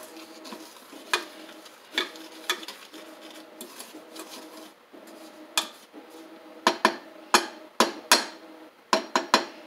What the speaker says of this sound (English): we're going to go ahead and give this a little stir